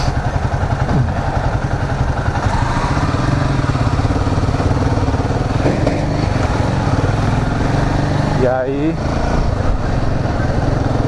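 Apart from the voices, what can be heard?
Royal Enfield Himalayan 450 motorcycle riding in city traffic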